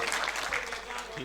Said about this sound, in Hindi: भाई जोरदार तालियों से इस्तकबाल करें ज़ुहैर भाई का